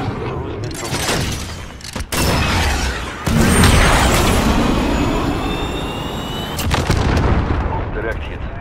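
A cruise missile strike in Call of Duty: Modern Warfare, heavy booming detonations and rumbling blasts with jet-like whooshing and crackling debris, loud and sustained over several seconds, with gunfire and brief voices mixed in.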